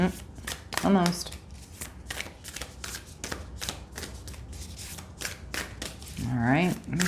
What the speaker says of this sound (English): I'm just gonna do 1 or 2 more shuffles.